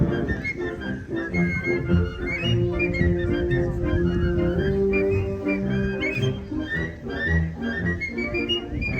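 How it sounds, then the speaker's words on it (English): Crowd of children at a civic band concert whistling along to a march tune, a ragged chorus of overlapping whistles above a steady bed of band accompaniment and audience noise. "we need everybody to whistle along"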